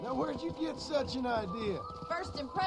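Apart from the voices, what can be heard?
No everyday noises stand out.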